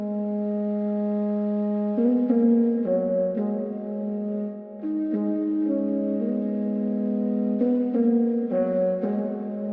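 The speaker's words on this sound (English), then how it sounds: "I thought this could use some brass, so I pulled up my friend at Sounds by Micah's trombone VST," A sampled trombone plays a brass melody in a beat, sustained realistic notes stepping between pitches in a steady rhythm, clear and upfront with no voices.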